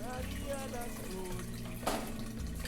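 Liquid drains and trickles steadily during home brewing of a Session IPA beer, a close, continuous watery flow with a brief splashy burst near the end.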